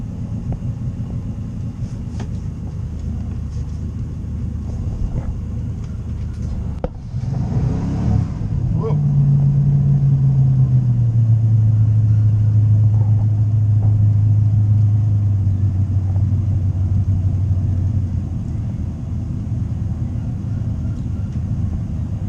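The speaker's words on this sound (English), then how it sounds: "Okay, decided to run the engines." A Luhrs 28 boat's engines start up with a thump and settle into a loud, steady low rumble that drones on continuously, with occasional voices faintly underneath.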